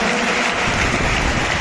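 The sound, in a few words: applause at school investiture ceremony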